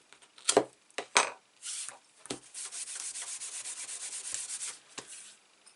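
An anti-static embossing pouch rubbed over thick Whisper White cardstock makes soft, steady scuffing strokes, with a couple of sharper brushing swipes at the start, then continuous close rubbing with no talk.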